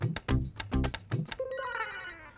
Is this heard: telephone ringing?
yes